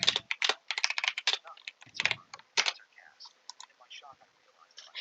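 Bursts of keyboard typing clatter close and fairly loud in irregular rapid runs, with short pauses between flurries and lighter, sparser clicks toward the end.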